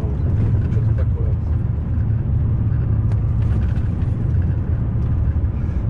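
A car drives along rural back roads near Mantova in Italy, heard from inside as a constant low cabin rumble with road noise, steady and unbroken throughout.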